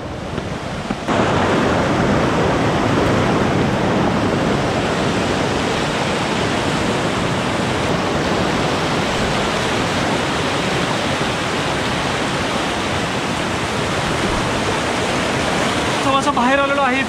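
The Kalu waterfall in Maharashtra, in heavy flow, makes a loud, unbroken roar of rushing water through the whole stretch, with some wind buffeting the microphone.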